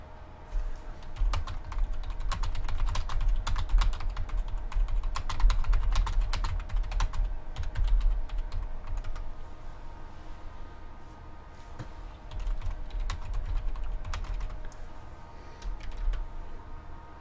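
Rapid keyboard typing runs steadily throughout, dense clusters of key clicks over a low background hum, fairly close and continuous with brief lulls.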